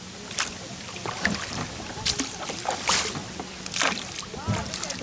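A kayak is paddled across water, with rhythmic splashes and drips from the strokes, close and moderately loud, under intermittent talk and light wind.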